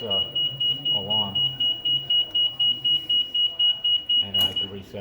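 A smoke alarm emits a rapid, steady series of piercing, high-pitched beeps, about four per second, with someone talking underneath.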